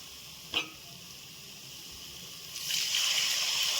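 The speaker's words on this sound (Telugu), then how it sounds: "ఇప్పుడు నీళ్ళు పోసుకుందాం." Water poured into a pan of farm chicken curry: a brief clink of a utensil early on, a quiet simmer, then a steady, louder rush of pouring water for the last second or so, close and without voices.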